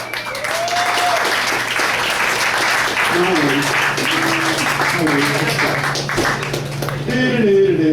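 A comedy club crowd at a café comedy night claps steadily and loudly throughout, with a voice speaking over the applause.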